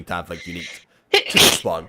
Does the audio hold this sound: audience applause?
no